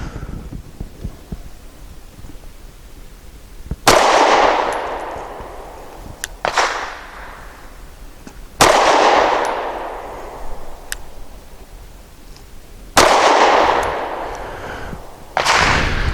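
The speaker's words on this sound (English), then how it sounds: "Gun cycled, locked the slide back." Four sharp gunshots from a Sig P365 SAS compact pistol fired with a finger-rest magazine, spaced a few seconds apart with ringing decays and smaller clicks between, loud and close at an outdoor range.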